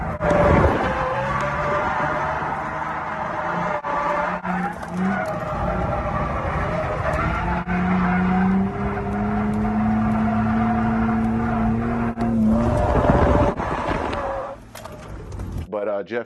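A quirky car's engine runs steadily while driving, a loud continuous drone with a rising tonal whine that shifts pitch mid-pass, with people talking over it throughout.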